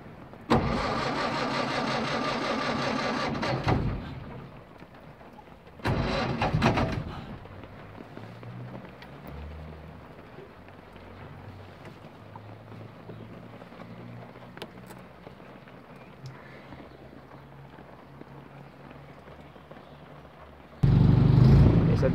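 A vintage Peugeot 201 coupé being started: a loud cranking burst, a second short burst, then a long stretch of low rumbling idle before a sudden louder rev at the end, with no talking.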